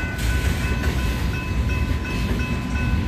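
A Portland and Western Railroad freight with three bare table cars rolls past at golden hour in North Salem, Oregon, a steady close rumble of wheels and cars with faint clicks and no voices.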